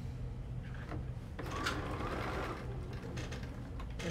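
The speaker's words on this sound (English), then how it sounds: "So what I'm gonna do is sew this back together." A sewing machine stitches pieces of a Bargello quilt back together, a steady close mechanical whir running without pause through the whole stretch with no talking.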